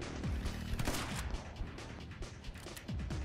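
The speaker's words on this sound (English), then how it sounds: "So the shotgun is actually doing fairly decent." Shotgun firing in the action video game My Friend Pedro, a burst of sharp blasts clustered early, then a continuous dense game soundscape with more shots trailing off near the end.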